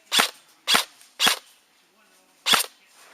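Airsoft gun shots at an outdoor skirmish: four sharp, close pops, three in quick, even succession and one more after a short pause.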